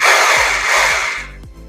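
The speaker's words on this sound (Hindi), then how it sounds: "ये ड्रिलिंग पे इसकी आवाज़ है।" Ingco 800W rotary hammer drill running steadily in drilling mode, a loud continuous whirring motor close by that cuts off near the end, leaving brief low knocks.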